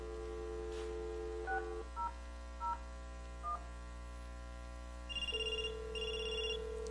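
A Snom VoIP phone dials a call: several short keypad tones in sequence, then a steady tone and a repeating ringback pulse, all over a constant low hum, with no talk.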